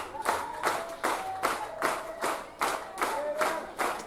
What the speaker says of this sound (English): I love that. I love that clap.